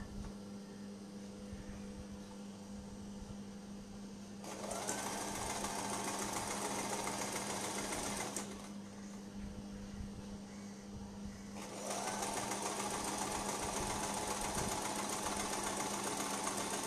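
A sewing machine runs in two long steady bursts, double-stitching the long sides of a baby frock, close and even-toned, with a quiet pause between them and a low hum underneath.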